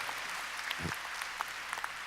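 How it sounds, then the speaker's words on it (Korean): Scattered applause from a missionary conference audience at an evening mission rally honoring absent officers, a thin, steady patter of clapping with a brief low thump partway through. "여러분 박수로 또 격려하십시다"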